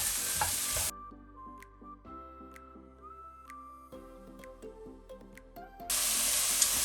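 Vegetable bao filling with mushrooms is stirred in a hot pan, loud hissing sizzle at the start and end framing a quieter stretch with soft scraping and tonal background sounds, no voices.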